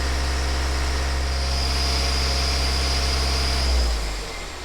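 A BMW 318d N47 diesel engine idles steadily during an engine bleeding procedure, with a low, even rumble and faint whine, then the sound drops and settles near the end.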